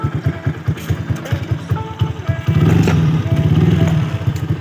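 A Honda Super Cub C700 motorcycle with a KLX exhaust idles with a deep, throaty burble, then revs up louder and fuller before settling back, close and loud.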